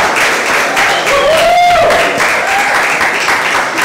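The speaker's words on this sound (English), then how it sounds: "Big round of applause for my boss, right?" A live audience at a Jagermeister event gives a loud, full round of applause with some cheering, steady throughout, while a voice calls out over it.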